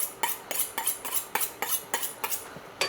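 A chef knife chops shallots in aluminum bowls prep, about a dozen crisp, sharp chops striking the board at a brisk, slightly uneven pace, close up and alone without talk.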